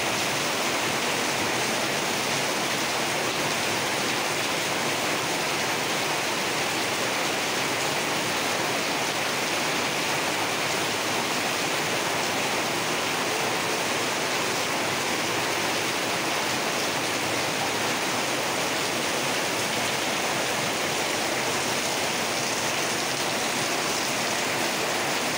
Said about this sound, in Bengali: বৃষ্টি হইতেছে, ছাদ থেকে পানি পড়তেছে।